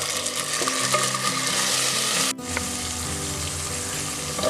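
Sliced onions and green peas fry in a pan with oil for a pea and mint pulao, a loud steady sizzle stirred and scraped throughout, with a brief dip near the middle.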